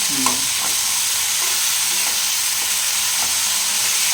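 Cumin and spices frying in oil with ridge gourd and shrimp for a Bengali jhinge chingri dish, a steady loud sizzle with soft stirring scrapes every half second or so, no talk.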